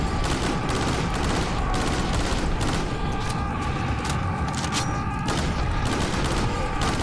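Dense gunfire and repeated explosions from the video game Serious Sam 3: BFE pound continuously in a loud, unbroken barrage of overlapping shots and booms.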